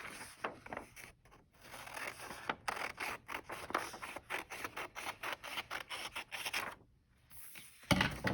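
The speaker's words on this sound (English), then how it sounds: "I'm just going to go ahead and cut this out." Scissors snip steadily through a paper card shape for a handmade Christmas tree card, with repeated crisp cuts in an even rhythm, close up, and a short pause near the end.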